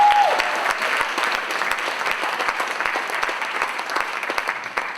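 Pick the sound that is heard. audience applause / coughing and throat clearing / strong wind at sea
audience applause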